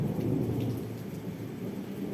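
Low rumbling thunder rolls beneath a steady wash of rain during a thunderstorm, fairly faint and continuous throughout.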